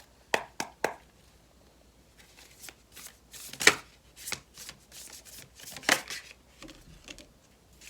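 Tarot cards being shuffled in a quiet room, several sharp riffling bursts followed by softer shuffling and tapping, close and alone with no talk.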